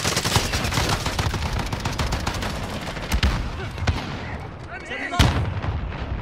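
FAL rifle gunfire in the video game Modern Warfare: dense, loud shots and bursts run continuously through busy battle effects, with one sharp crack standing out near the end.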